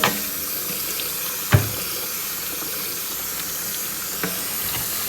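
Tap water runs steadily into a kitchen sink while food is rinsed under it, a continuous close hiss with a couple of soft knocks from handling.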